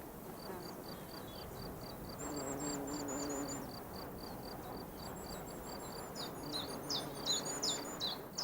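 Birds chirp and tweet in repeated high, quick notes, several calls overlapping, fairly close, with a soft outdoor hum beneath.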